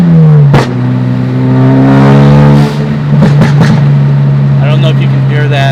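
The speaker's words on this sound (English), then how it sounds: "I don't know if you can hear that over the exhaust, but that is the Mountune cold air intake." A 2017 Ford Focus RS fitted with a Mountune cold air intake revs up close and loud, its engine note climbing and falling through several throttle blips with exhaust burble between.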